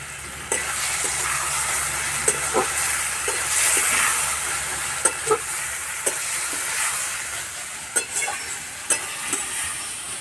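Morola fish curry (chorchori) made without potatoes is stirred slowly in a pan, a steady bubbling sizzle running throughout with intermittent sharp clicks and scrapes of the spatula against the pan.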